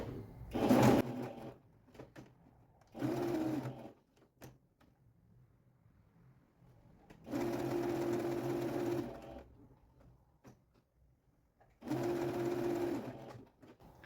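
Sewing machine stitches fabric for an Easter bunny toy in four separate bursts of rapid, close mechanical whirring, short ones at first, then two longer runs, with quiet pauses and small handling clicks between them.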